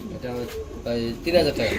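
Pigeons cooing softly close by at a pigeon farm, with a person talking over the low, throaty calls.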